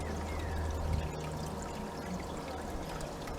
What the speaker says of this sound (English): I'll just run it all over this sluice